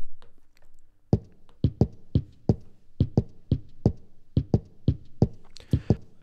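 Dancehall kick drum treated with a compressor and shimmer to sharpen its attack, a regular pattern of loud, tight low thuds with crisp clicks, a few faster doubled hits, and no voices over it.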